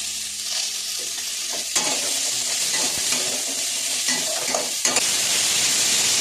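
Potatoes and carrots sizzle in a pan while being stirred, a continuous frying hiss punctuated by occasional scraping and knocks of a spatula against the pan.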